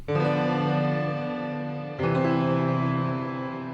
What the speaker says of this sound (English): I'm gonna bring in a piano, I'm gonna add some reverb